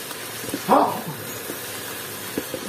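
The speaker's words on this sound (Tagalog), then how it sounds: "Talong para gisa-gisa naman" Sliced eggplant sautés in a pan with a steady sizzle, broken by a brief clatter of stirring. Faint voice-like sounds sit under the frying.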